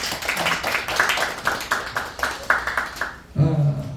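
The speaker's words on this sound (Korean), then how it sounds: "우리 박수 한번 쳐드리겠습니다." Members of a church congregation clap together at a Sunday worship service, a steady burst of many hands at close to moderate distance, ending with a brief low murmur.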